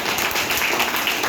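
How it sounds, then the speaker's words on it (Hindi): An audience at an AWPL health awareness program in the Vastral office clapping together, a dense, even wash of applause holding steady throughout. "एक बार उनके लिए जबरदस्त ताली"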